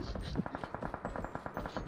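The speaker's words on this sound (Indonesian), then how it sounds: "Apa sih tembak-tembak" Rapid automatic gunfire in PUBG, a fast steady burst of repeated shots at close range, quite loud and continuous for about two seconds.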